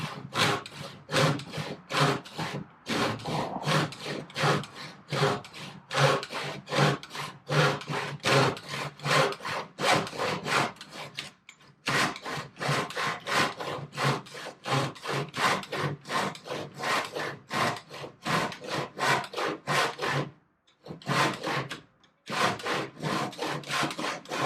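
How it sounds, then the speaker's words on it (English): Hand saw cutting through a wooden board for a bridge test fixture, with steady rhythmic back-and-forth strokes running nearly continuously and a few brief pauses, close and fairly loud, no talking. "Now I'm holding the board for him so that he's able to cut it and it doesn't move around on him."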